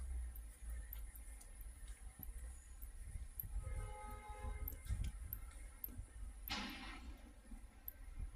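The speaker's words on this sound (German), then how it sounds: "der kommt hier rein, Solo-Einheit Baureihe 425 von DB Regio S-Bahn." A DB Regio S-Bahn class 425 single-unit train pulls into a station, a steady low rumble with faint squealing tones partway through and a brief loud hiss of brakes or air near the end.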